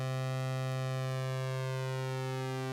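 Predator-3 synthesizer playing a dry, sustained tone from two slightly detuned oscillators, a steady buzzy pitch with a gentle beating shimmer, loud and alone.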